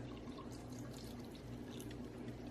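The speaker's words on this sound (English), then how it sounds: "we take our reserved liquid that we cooked it in, and we put in enough to cover our beans" Reserved bean cooking liquid poured over beans for Boston baked beans, a steady, faint liquid pour and trickle with no pauses.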